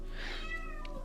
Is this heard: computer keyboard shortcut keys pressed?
no